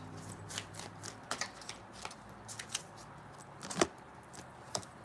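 Tarot cards being shuffled by hand in a series of quick riffling bursts, soft and close, with brief pauses between shuffles and no talking.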